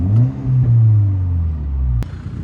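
A manual Mk6 Volkswagen Golf R gives a deep, close engine drone that holds steady and then drops away, ending with a sharp click near the end, with no voices.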